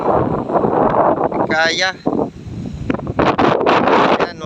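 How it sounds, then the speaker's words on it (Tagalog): Strong typhoon wind gusts along the coast, roaring and buffeting the microphone in heavy bursts as a person talks over it. "malakas ang hangin dito"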